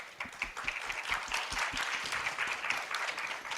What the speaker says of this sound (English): Please welcome our panelists with a huge round of applause.